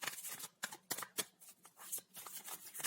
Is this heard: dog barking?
no